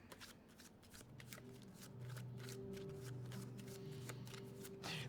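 A deck of tarot cards being shuffled by hand, a soft steady riffling and rustling that runs throughout, quiet and close, with faint background hum and no talk.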